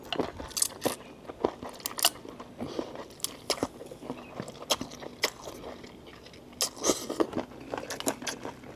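Crisp Thai pork rinds (khaep mu) crunch between teeth during a meal, with irregular close bites and chewing crackles and soft scraping in between.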